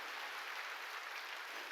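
A church congregation at a Korean worship service claps together, making a dense, even wash of applause that sounds faint and somewhat distant throughout.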